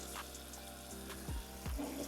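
Water pours from a tap into a jar being filled to the top for fermenting tomatoes, a steady low splashing rush with a couple of louder gulps near the end.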